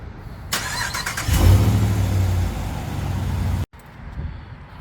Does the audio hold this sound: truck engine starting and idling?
yes